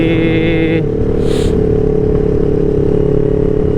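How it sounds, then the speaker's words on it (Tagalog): A Honda PCX scooter-style motorcycle on a fast ride toward Marilake, its engine a steady close drone with a brief higher whine early on, running continuously without audible talk. "Gamit yung motor Honda PCX."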